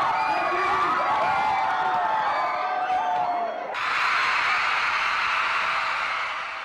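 Deafening cheers and screams from a packed crowd of fans greeting a singer at a mall show at SM North EDSA, a dense continuous roar of shrill whoops that swells loudly throughout.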